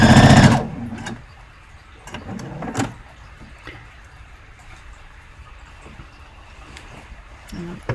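A sewing machine stitching an Orla dress gives a short, loud run at the very start, then falls quiet, leaving faint handling clicks and soft room sounds.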